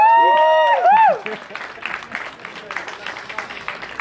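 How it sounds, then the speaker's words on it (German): Spectators at an amateur strongman competition react to a lift. High whooping and cheering voices come first, then scattered clapping and crowd noise follow at a lower level. "Applaus bitte."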